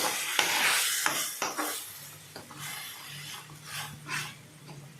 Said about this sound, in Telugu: బాండీలో వేసుకుని ఫ్రై చేసుకుంటున్నాను పేస్ట్ కూడా కొద్దిగా ఫ్రై అవ్వాలండి